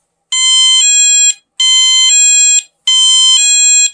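Three loud, identical bursts of a bright electronic two-part chime ring out from a 1byOne wireless driveway alarm set to its louder alert tone, each lasting about a second with short silent gaps between.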